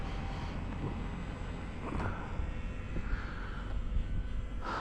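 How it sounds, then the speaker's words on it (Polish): A Skipper model airplane's engine drones steadily in winter, its pitch shifting slightly as it passes, amid rushing wind on the microphone. "bardzo ciekawy samolocik fajnie wygląda w locie"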